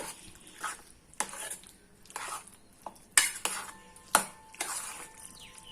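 Aviyal vegetables with a tablespoon of coconut oil are stirred in a pressure cooker pot, with a spoon knocking and scraping the metal in irregular bursts and soft squishy mixing between them, heard up close with no talking.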